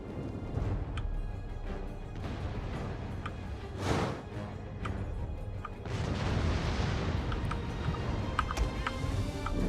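Ballista volleys loosed in a Total War: Rome II battle, a loud rushing whoosh and thud in the middle of a dense, constant roar of battlefield noise, with no voices.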